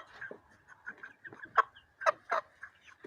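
A young chick chirps in a rapid run of short, high peeps, close and fairly quiet, irregularly spaced with a few louder calls near the end.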